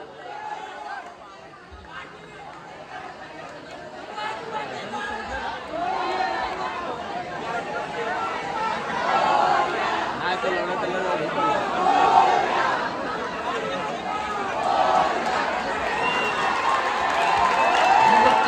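A crowd gathers at a Govinda human-pyramid practice camp for a seven-tier pyramid in Kalwa. A dense babble of voices, shouts and cheers builds steadily louder, with people talking throughout.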